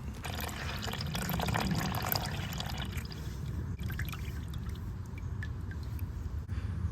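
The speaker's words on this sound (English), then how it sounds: "Let's try and push a little more water out with some old Marvel." Water trickling and dribbling out of a Kawasaki MT1 two-stroke engine, a close, continuous splashing trickle with small drips, strongest early and then settling into a quieter steady flow.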